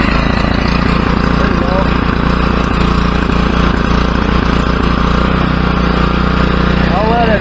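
Small engine running, started with an Ecoflow Delta 1300 battery: a loud, steady engine roar with a fast rhythmic chug, close by and continuous throughout, with no distinct crank-over or start heard.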